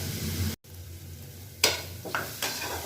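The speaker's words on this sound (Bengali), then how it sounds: "আবার ভালো করে কষিয়ে নিতে হবে, একদম কাঁচা গন্ধ যেন না থাকে" Chicken keema masala with tomato and salt sautéed in a pan, a continuous close sizzle broken by a brief gap and then a few distinct scraping strokes of a spatula against the pan; no voices.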